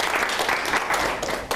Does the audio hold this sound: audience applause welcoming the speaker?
yes